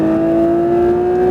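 Porsche 992 GT3 RS on the Le Mans Maison Blanche track at full throttle, a loud, steady high-pitched engine drone holding one strong tone throughout, close and continuous with no talk over it.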